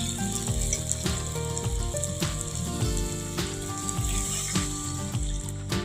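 Water poured into a pan of frying prawn curry with radish, potato and eggplant, a loud close sizzle and bubbling that carries steadily throughout.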